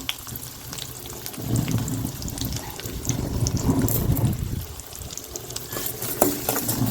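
Onions sautéing in a pan for a cluster bean tamarind curry, a continuous hissing sizzle mixed with stirring scrapes and a watery rushing texture, fairly close and steady for the whole stretch.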